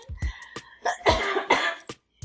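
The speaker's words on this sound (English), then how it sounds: "I have to cough again." Several close, harsh coughs in quick succession, a few short bursts followed by longer rough hacking, with brief pauses between.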